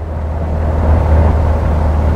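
A 2001 Daihatsu Taruna FGZ, its engine vibrating heavily, runs with the accelerator pressed, giving a loud, steady low drone that swells slightly partway through, with no talk over it.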